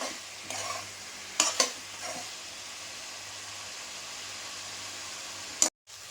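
Chicken curry mixture frying in oil in a pan and being stirred, with a steady close sizzle, a few sharp scraping stir strokes, and a brief cut near the end.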